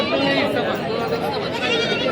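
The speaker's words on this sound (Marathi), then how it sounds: "बघा मोठ्या मापाची शेळी आता आपण हे कव्हर करतोय" Goats bleat repeatedly amid the busy chatter of a crowd at the Sangola goat market, with the animal calls tangled under steady nearby talk.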